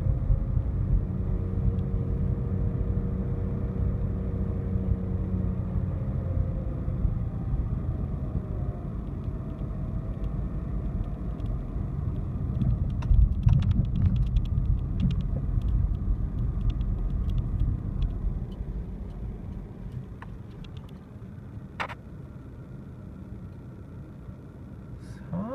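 A car descends a hill near Nistrovo, Macedonia, its low engine rumble and road noise steady and close for the whole stretch, easing slightly toward the end, with no voices.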